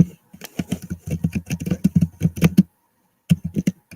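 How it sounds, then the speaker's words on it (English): Rapid keyboard typing comes in a dense burst of close, crisp clicks, stops for a moment, then resumes briefly. "I like that typing sound."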